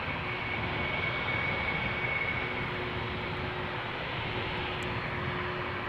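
A 12-year-old KLM Boeing 777-300ER heading to Lima, Peru, takes off at Amsterdam Schiphol, a constant broad jet roar with a faint engine whine, steady and uninterrupted by any voices.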